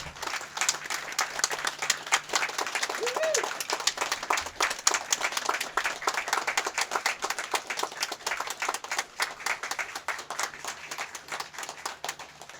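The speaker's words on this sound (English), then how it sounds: "please, everyone, join me in giving the Southfield police officers a round of applause" An audience at a police memorial claps for officers, a dense, steady patter of many hands lasting about twelve seconds at moderate distance with faint voices underneath.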